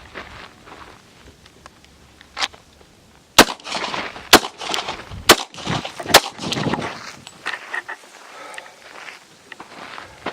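Close-quarters defense shooting practice with a handgun fired low at short range, several sharp gunshots spaced about a second apart amid shuffling steps and handling noise, nearby and loud.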